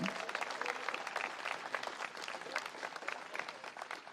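Audience applause at a political rally honoring Joan of Arc in Domrémy, France: a dense, steady patter of many hands clapping together, moderately distant, with a faint murmur of voices underneath.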